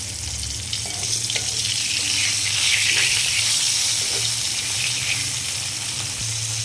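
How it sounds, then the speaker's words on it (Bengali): A burger patty frying in a pan of oil, a loud continuous hiss and bubbling sizzle that swells slightly and holds steady, heard close with no talking. "এখন আমি ভেজে নিব।"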